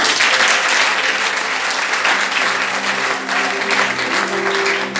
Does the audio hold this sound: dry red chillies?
no